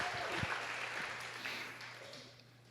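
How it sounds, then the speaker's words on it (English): Quiet applause from a conference audience at a 2019 visionary gathering, given to the event team, soft and diffuse and fading out over under three seconds, with a low electrical hum beneath. "Can we actually give them a round of applause"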